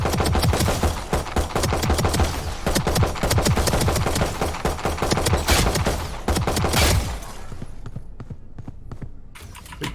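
Rapid automatic gunfire in the video game VALORANT, a dense, continuous stream of sharp shots for several seconds that then drops to a few scattered pops, loud and close.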